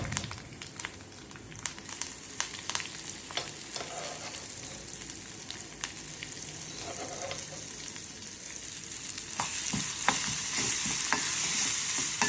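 Food roasts in a pan on a gas stove with a soft, continuous sizzle, broken by scraping and clinking stirring strokes. The sizzle grows brighter and louder toward the end.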